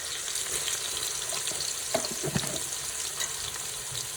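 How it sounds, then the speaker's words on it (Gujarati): Onions frying in hot oil with curry leaves give a steady, close sizzle with a few louder pops and stirring clatters partway through, and no voices. "તેલમાં ડુંગળી પકાવી નાખવાનું છે લીમડો."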